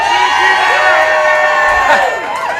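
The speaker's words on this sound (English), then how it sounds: "Man, this was a lively crowd we got here" A lively bar crowd cheers and whoops at Key Bar on 6th Street in downtown Austin, Texas, a loud sustained roar with shouting voices all the way through.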